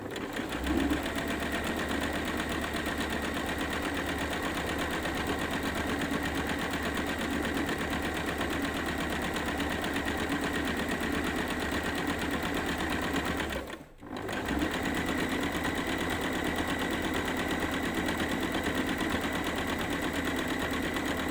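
A sewing machine stitches an exposed zip in a close, steady, continuous whir that runs almost the whole time, cutting out for one brief pause before resuming at the same pace.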